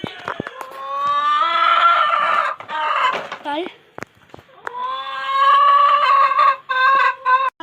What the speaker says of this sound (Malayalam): ഇവിടെ കുറച്ച് കോഴികൾ ഇങ്ങോട്ട് നിൽക്കുന്നുണ്ട്